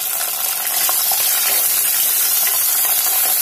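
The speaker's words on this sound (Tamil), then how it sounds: "பூண்டு சின்ன வெங்காயம் சின்ன வெங்காயம் போட்டு நல்லா ஃப்ரை ஆகணும்" Garlic and small shallots frying in oil in a pan for a fenugreek kuzhambu, giving a steady, loud, close sizzle with a bright hiss that carries on throughout, with no talking.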